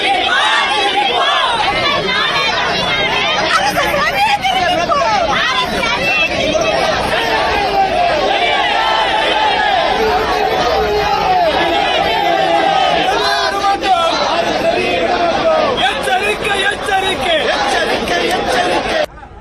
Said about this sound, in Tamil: பெரியார் பல்கலைக்கழகம் அருகே கண்டன கோஷங்களை எழுப்பினர்